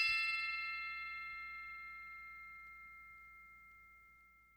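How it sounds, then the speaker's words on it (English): A single bell note from a song strikes once with a bright, clear ring, then decays slowly and evenly over several seconds, faint and alone. "That last little bell sound."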